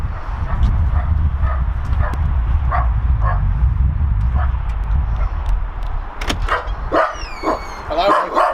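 A dog barks and yips in short bursts near a house, the sharpest barks coming toward the end over a steady background rumble.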